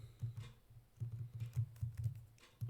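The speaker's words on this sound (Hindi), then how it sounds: "एंटर प्रेस करेंगे" Fast typing on a computer keyboard, close and fairly quiet, with clustered key clicks in uneven bursts and a final separate keystroke at the end, no voices.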